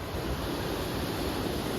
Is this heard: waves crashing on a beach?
yes